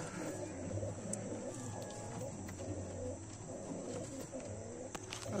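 Soft, low cooing of pigeons settled in their coop at dusk, repeating over a constant background hum, fairly close but quiet.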